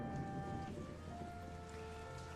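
Heavy rain falls steadily in a rainy amusement-park scene with a Ferris wheel in the visual novel The Sight of Autumn, a constant soft hiss with faint tonal music lines above it.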